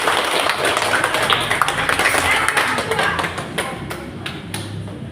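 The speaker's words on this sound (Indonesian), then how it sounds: "Tepuk tangan untuk kelompok 1." Applause for a student group in an elementary school class simulation, a dense wash of many hands clapping steadily throughout, with a few sharper claps standing out near the end.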